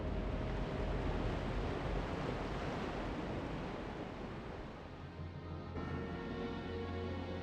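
Massive, turbulent ocean waves where a pod of bottlenose dolphins feeds and plays, a steady rushing surf roar that surges continuously at moderate level, easing slightly toward the end with a low hum underneath.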